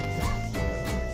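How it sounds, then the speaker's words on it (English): Dogs barking on a farm outing, a couple of loud, close woofs in quick succession over background noise. "Dogs are barking."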